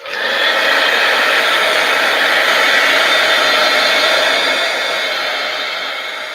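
A hair dryer blowing on wet paint on a painting, a loud steady whooshing hiss that runs continuously before easing slightly toward the end.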